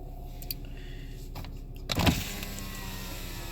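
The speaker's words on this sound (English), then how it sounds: "The driver's window is fully automatic, while the rest you have to hold" Power windows of a 2014 Honda Civic Si with a 2.4-liter inline-4 VTEC whir briefly and faintly, with a soft thunk near the two-second mark over a quiet cabin hum.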